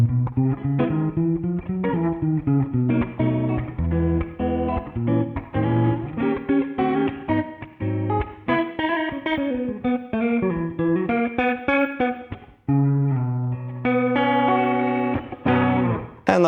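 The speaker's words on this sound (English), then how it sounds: "when I'm turning on this foot switch, it's basically turning on a rotary" Electric guitar played through a Valeton GP-5 multi-effects unit with a rotary effect switched on, a steady melodic line with a swirling, slightly distorted tone and sustained notes, loud and close with no talking.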